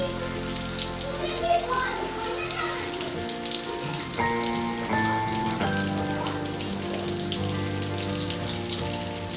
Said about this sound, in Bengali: এই তো এবার রাইসগুলোর সাথে ভালোভাবে বাকি উপকরণগুলো মিক্স করে ফেলবো।